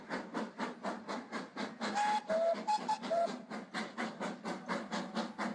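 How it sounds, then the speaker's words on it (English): Steam locomotive Lytham Manor, built by British Railways in 1950, works along the Paignton to Dartmouth line with rhythmic, evenly spaced exhaust chuffs, and a few short whistle notes sound partway through. "The engine on this train is Lytham Manor, built by British Railways in December 1950"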